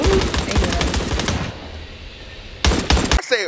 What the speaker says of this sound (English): Oh, shit, they shooting on your block. They shooting.